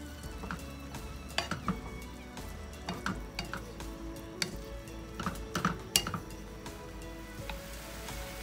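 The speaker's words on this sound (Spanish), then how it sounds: "Y revolvemos." Burger meat with mushrooms, seasoned with paprika, sizzles in a pan while a spoon stirs it, scraping and clinking against the metal in irregular bursts over a constant frying hiss.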